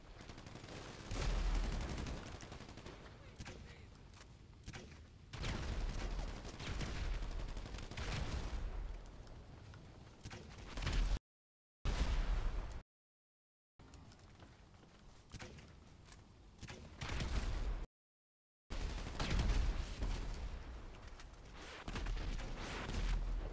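Explosions and gunfire in GTA 5 Online, long dense bursts of rapid shots and booms, loud and sustained, broken by a few short silent gaps.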